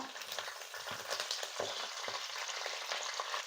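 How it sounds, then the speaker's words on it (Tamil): A handful of curry leaves crackling and sizzling in hot oil with mustard seeds for beetroot pickle, a steady close frying hiss with sharp pops scattered throughout. "கருவேப்பிலை சேர்த்து கருவேப்பிலை நல்லா பொரிஞ்சு வந்துருச்சு"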